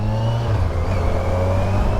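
A Kawasaki Versys 1000 S motorcycle engine hums and revs steadily at close range in its lowest setting, a sustained droning growl with slight rises in pitch, no voices.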